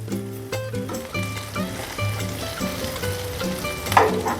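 Pieces of taro root (colocasia) frying in a pan of oil, a steady close sizzle with bubbling crackle under soft background music, and a brief splutter near the end as pieces are turned.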